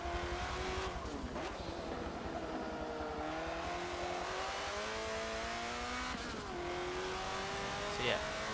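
A quick modified race car in Forza Motorsport 7 revs hard, its engine pitch climbing and dropping through several gear shifts. It sounds loud and continuous, with a few sharp breaks as it shifts.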